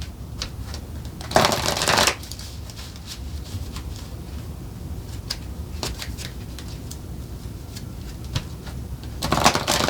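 Cards are shuffled for a card reading, with two riffling bursts at the start and end and softer card handling and shuffling sounds in between, close to the microphone.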